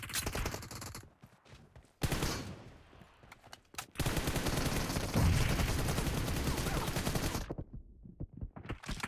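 Bursts of automatic gunfire in the video game PUBG Mobile, dense rapid shots in loud volleys separated by brief pauses, with no talking.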